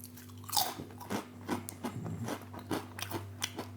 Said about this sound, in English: Got a very crunchy, just like you normally get with your hand-cooked crisps.